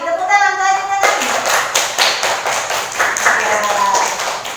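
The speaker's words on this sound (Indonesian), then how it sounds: "Tepuk tangan untuk Ajeng dan Ami." A classroom group claps for two classmates, a dense burst of many hands clapping in steady rhythm after a teacher's voice, close and loud, with children's voices mixed in.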